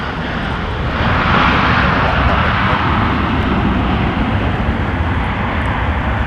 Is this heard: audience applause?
no